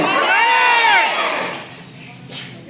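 A large crowd in a seminar hall shouts loudly together in one sustained roar that gradually fades, followed by a brief fainter outburst.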